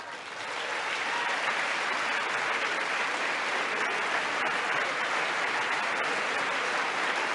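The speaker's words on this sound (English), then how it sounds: "you don't applaud for Ronald Reagan?" Sustained applause fills a legislative chamber during a State of the Union–style address, a dense, steady wash of clapping from a large crowd that swells in the first half second and then holds loud and even throughout.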